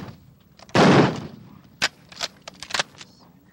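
Gunshots at a shooting training session: a loud, broad blast followed by several sharper single cracks at uneven intervals, close by, with no talk.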